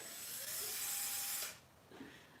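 A handheld electric drill whirs steadily up close for about a second and a half, then cuts off, leaving only a faint mechanical rattle.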